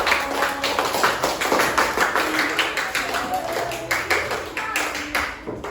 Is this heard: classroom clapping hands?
yes